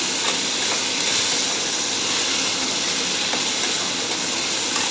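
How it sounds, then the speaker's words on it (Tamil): Onions, tomatoes and green chilies sautéing in a pan for a home dinner give off a steady, close, dense hiss that runs unbroken and fairly loud throughout, with no talking. "வெங்காயம் தக்காளி பச்சை மிளகாய் கட் பண்ணி வச்சுருக்கோம்ல, அதெல்லாம் போட்டு நல்லா வதக்கிக்கணும்"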